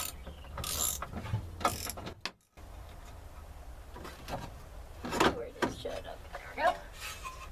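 A ratchet fitted with an extension works the 10mm bolts of a dashboard plate on a 1992-95 Honda Civic, making several short bursts of rapid, close clicking broken by brief pauses and soft handling noise.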